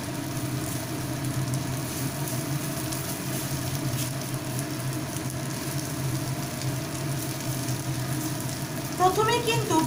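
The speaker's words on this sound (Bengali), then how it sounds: "তাই আগে আমি এপাশে একটু ভুর্জি মতন আগে করে নিচ্ছি" Egg sizzles in a pan as it is scrambled into bhurji beside eggplant, giving a steady moderate frying hiss with light stirring and a few bubbling pops at the end.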